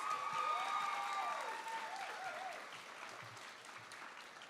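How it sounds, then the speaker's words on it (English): A school assembly audience claps for a student speaker at a Black History Month event, fairly faint and fading over a few seconds, with a few whoops and cheers on top early on. "Let's give him one more round of applause."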